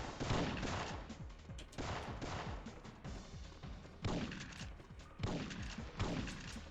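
Shotgun blasts from a guard in the video game Syphon Filter crack out in a rough series of about six sharp bursts, each trailing a short rumbling decay, loud and close.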